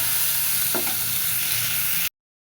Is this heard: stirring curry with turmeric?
yes